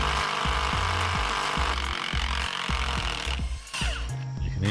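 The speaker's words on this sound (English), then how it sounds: "You can hear the impact driver chattering." An impact driver chatters in a fast, steady rhythm of repeated hammering bursts while driving screws during pet fence construction. It is loud and close, with a short pause near the end before it resumes.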